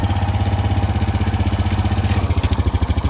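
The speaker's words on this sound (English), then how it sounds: "I'm back on the four-wheeler." A four-wheeler ATV engine runs steadily nearby with a loud, throbbing low-pitched rumble and rapid even pulsing throughout.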